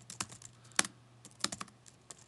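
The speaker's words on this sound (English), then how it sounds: "Hit Control V on your keyboard." Fingers tap on a computer keyboard while working in a Google Docs document, producing quiet, irregular clicky keystrokes with a few sharper key hits spread over the stretch.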